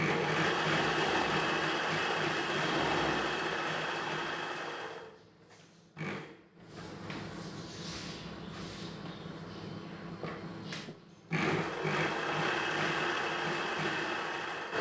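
Sewing machine stitching a chudidhar pant, a steady close whirring drone that pauses briefly twice and then resumes, with no talking.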